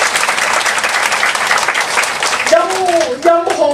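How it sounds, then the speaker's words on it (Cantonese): Audience applause at a Cantonese business seminar, dense steady clapping from a crowd filling the hall, with a voice speaking over it toward the end. "大家俾個掌聲佢哋好嗎？"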